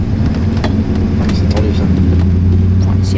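Car climbing a winding mountain road in British Columbia, heard from inside as a steady loud engine drone and road rumble with no pauses.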